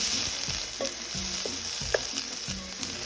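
Half a diced onion frying in smooth guajillo chili sauce makes a loud, continuous sizzle, with rhythmic stirring scrapes repeating about every half second and a small clink partway through.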